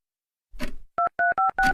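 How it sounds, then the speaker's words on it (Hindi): A brief rustle, then four short electronic tones as phone keys are pressed, crisp and close. "फोन लगाओ उसे"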